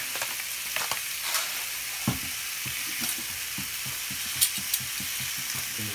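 Fresh cracked pepper searing in a hot pan while pupusas are made, a continuous close sizzle with irregular soft clicks and stirring taps throughout, no one speaking.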